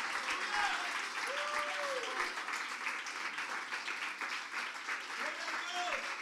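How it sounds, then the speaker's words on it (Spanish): Congregation applauding during an evening church service at a Christian preaching event, a steady wash of clapping across the whole stretch with a voice calling out above it. "denle un aplauso al Señor Jesucristo en esta noche"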